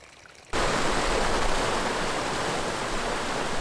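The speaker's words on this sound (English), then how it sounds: "how much noise a body of water can make, even something as small as this stream" A small babbling brook flows outdoors, its rushing water cutting in suddenly and then holding as a steady, dense wash of noise with no talking.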